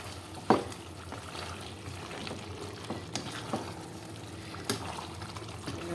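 Meat being stirred and sautéed in a pot for biryani, with a soft steady frying hiss and occasional scraping knocks of the spoon against the pot, no talking.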